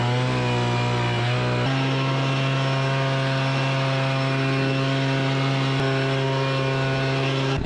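An abandoned 1980 Chevrolet C10 junkyard pickup truck with a newly fitted camshaft idles low, a steady close droning engine hum that shifts slightly in pitch early on and then holds even to the end.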